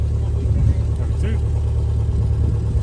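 An MG classic car engine idles steadily close by with a low, even rumble throughout, while people talk over it.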